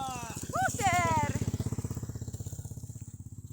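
Small motorcycles pass on a village road in the Philippines as students head home, with a close engine buzz that settles into a steady pulsing idle after a brief burst of voices.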